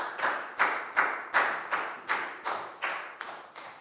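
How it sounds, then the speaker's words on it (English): A class of children in an English lesson claps for a student in a steady, even rhythm of about ten sharp claps, close and clear with no talking. "High five and a big round of applause for Chu"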